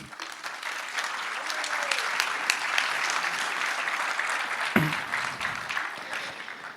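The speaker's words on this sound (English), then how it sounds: "So a big round of applause for yourselves." An audience at a software conference gives a steady, full round of applause that fills the room from start to finish.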